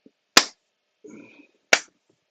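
Two single, sharp hand claps spaced more than a second apart make a deliberate slow clap, with a faint murmur between them.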